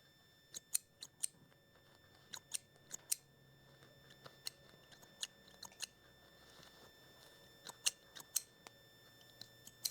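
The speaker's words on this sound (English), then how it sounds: "scissors and just trim away any of your threads that you have on top" Scissors snip away loose sewing threads on an oven mitt project, a series of sharp, quiet clicks scattered irregularly in small clusters over a faint, hushed background.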